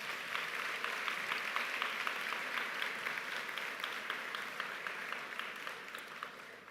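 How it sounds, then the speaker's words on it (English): Applause at a high school commencement comes from a large crowd, a dense, even wash of clapping that carries on steadily and softens slightly toward the end. "Students, please give your parents, family,"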